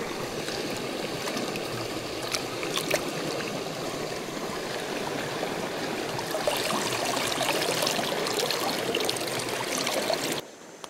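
Stream water flows and trickles steadily at a campsite, a continuous close rushing babble with faint higher chirps over it, cutting off abruptly near the end.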